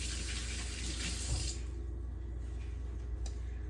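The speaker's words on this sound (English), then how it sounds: "Quick hand wash." Tap water runs steadily as hands are washed at a kitchen sink while baking bread. A close, continuous rushing splash drops to a quieter flow after about a second and a half.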